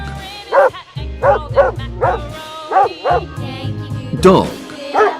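A dog barks repeatedly in short, sharp yips and bow-wows, about a dozen close, loud calls in uneven rhythm, some with a whimpering edge.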